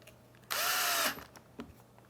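A power driver with a number 2 bit runs number 8 screws to mount a toggle clamp, one loud, steady whir lasting about half a second, then a couple of faint clicks afterward.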